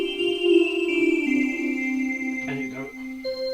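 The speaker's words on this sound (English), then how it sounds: "you can have a solo on the 2 feet flute" Organ two-foot flute stop played solo, a high, tinkly sustained line moving through several held notes, clear and steady with nobody speaking.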